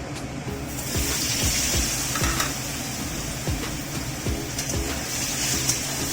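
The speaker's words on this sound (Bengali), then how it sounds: "পনিরটাকে আমি ভালো করে ভেজে নেব" Paneer frying in hot oil seasoned with salt, turmeric and Kashmiri chili powder, a steady sizzle with light spatula scrapes and taps at intervals, close and continuous.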